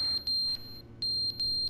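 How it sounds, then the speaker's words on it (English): A fire-alarm-like sound in the video game The Stanley Parable: Ultra Deluxe, sharp high-pitched electronic beeps repeating in an insistent stop-start pattern over a low background hum, loud and close, with no talking. "Yeah, it's like a fire alarm."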